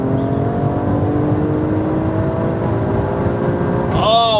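An Alfa Romeo Stelvio Quadrifoglio's Ferrari-derived 2.9-litre twin-turbo V6 hums and builds steadily under acceleration, then rises sharply into a rev at the end, heard from inside the car.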